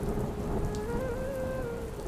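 Steady heavy rain pours down throughout, a dense continuous hiss with no voices and faint tonal background music running underneath.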